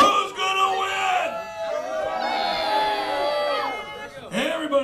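Crowd at a Canadian lumberjack show at Epcot, a close mix of cheering, whooping and yelling voices swelling and fading, with an amplified announcer talking over them.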